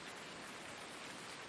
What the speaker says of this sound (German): mach den Regen weg